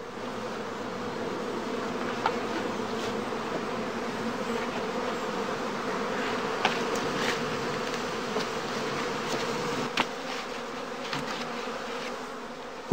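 Honey bees buzz in a dense, continuous drone, a swarm humming steadily close by at a skep-hive apiary, with occasional sharper clicks and bumps.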